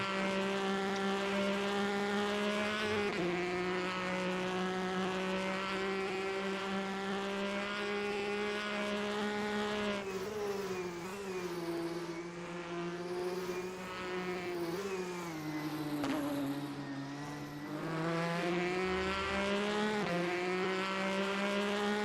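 Loud race car engines in a Ford V Ferrari endurance racing video game at Le Mans, a continuous harmonic drone that shifts pitch with gear changes and speed, close and dominant with no talk.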